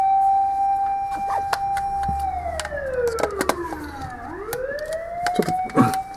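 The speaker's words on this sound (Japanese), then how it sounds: "ちょっと消防車がうるさくてすいません。" Fire engine siren passing outside, a steady wail that sweeps down in pitch as it goes by and then rises again, fairly loud with traffic rumble beneath.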